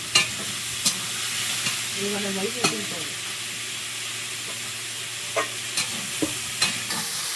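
A dish fries steadily in a pan, a constant sizzle with sharp, intermittent scrapes and clacks of a stirring spoon spaced every second or two, close and without talk.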